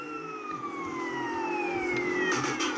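Police sirens wail in a video game, several overlapping tones sliding downward continuously, loud and close over a low engine rumble, with no talk.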